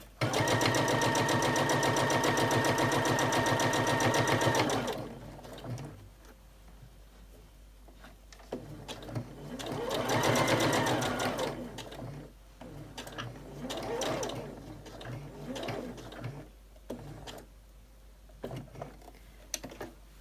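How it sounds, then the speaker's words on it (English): A sewing machine stitches a fabric catch-all caddy, whirring steadily and loudly up close for about five seconds before stopping; a person then talks, with small handling ticks. "the trick is that you sew it from the bottom to the top, just under the faux binding"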